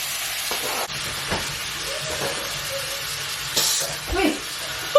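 Onions fry and sizzle in a pan while being stirred, with a steady hiss and occasional scraping clatters of the utensil, close by.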